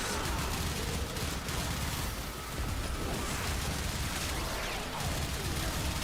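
Kuva weapon fire in the Warframe video game sounds as a dense, continuous stream of loud shots and impacts, with a brief lull in the middle before the barrage resumes.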